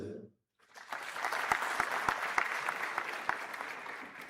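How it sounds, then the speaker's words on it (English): Students applaud at a medical college white coat ceremony, a dense, sustained wash of clapping with a few sharp individual claps standing out, starting after a brief pause and holding steady. "Clap up for yourself."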